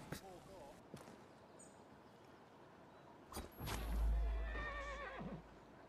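A horse neighs in a video game, with several whinnies among sharp impacts and hoof clatter, followed by a loud low rumble and a final drawn-out neigh.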